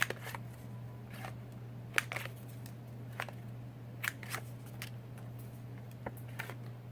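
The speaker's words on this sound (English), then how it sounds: "I'm going to round the corners with a 1/2 inch corner rounder" A 1/2 inch corner rounder punching the corners of cut paper for a flipbook craft, making a series of sharp crisp clicks and crunches at irregular intervals, close and fairly quiet against a low steady hum.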